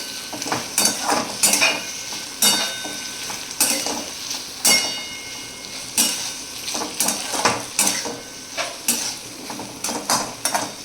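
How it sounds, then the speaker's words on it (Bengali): A utensil stirs cashew paste and grated coconut in a pan with repeated scraping clinks against the metal, a soft sizzle underneath, close and steady with no talking. "এটাকে ভালো করে মিশিয়ে নিচ্ছি"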